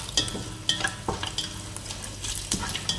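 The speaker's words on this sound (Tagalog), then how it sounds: "brown na yung ating bawang, ipa-brown pa para masarap" Garlic browns in hot oil for fried rice with eggs, a steady close sizzle broken by scraping stirs and light clinks of a spatula against the pan.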